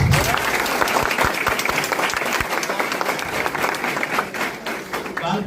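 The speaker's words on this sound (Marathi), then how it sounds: "पुन्हा एकदा टाळ्या" A crowd bursts into sustained applause, many hands clapping together loudly and continuously, with some voices mixed into the clapping.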